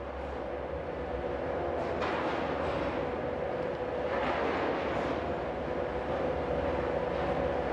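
A train hauls loosened rock out of a tunnel construction site on the Rhaetian Railway's Engadine Line in Switzerland, giving a steady, dense rumble with a faint tonal hum that holds at an even level throughout, with no voices.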